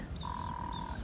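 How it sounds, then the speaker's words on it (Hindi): A common moorhen calls with a single sustained, whistle-like tone over faint outdoor background noise, close enough to stand out clearly, with soft higher chirps from other birds around it. "कॉमन मोर हैन की आवाज़ आ रही है"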